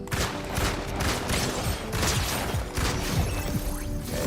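Rapid bursts of gunfire ring out in a shooter video game, a dense, loud, continuous clatter of shots with no speech over it.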